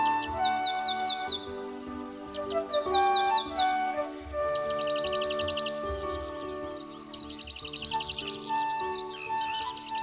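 Birds chirp in quick repeated trills, with rapid bursts of calls recurring over a steady background of sustained tones.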